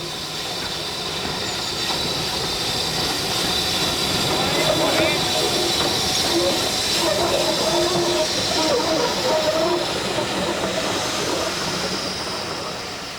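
A heritage steam train hauled by a British Railways Standard tank locomotive gives off a continuous, rushing hiss and rumble of steam and rolling stock, steady and fairly close, with faint voices underneath.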